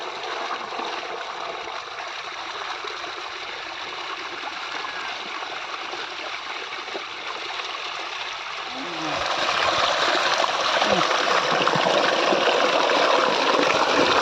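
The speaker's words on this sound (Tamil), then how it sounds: "மோட்டர் தண்ணி ஓடுது அதுலேயே கழிக்கலாம்" Water from a motor pump runs steadily in a continuous rushing flow, growing louder and fuller partway through, with faint splashing and no talk over it.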